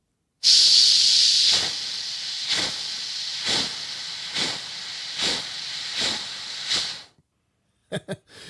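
A voice imitates a steam engine puffing, with a long hiss followed by steady rhythmic chuffs that gradually slow, ending in a few short bursts.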